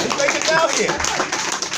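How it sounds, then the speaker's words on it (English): Audience applause at an indoor community gathering in West Philadelphia, with steady clapping running under someone speaking close to the microphone. "Give them a round of applause."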